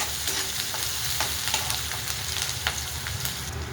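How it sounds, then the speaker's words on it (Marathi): Chopped onion hits hot oil that was just seasoned with cumin and sizzles loudly and steadily, with light stirring scrapes over the continuous frying hiss and no voices. "लगेच असा कांदा टाकून घेते, तेलामध्ये एकजीव करून घेते."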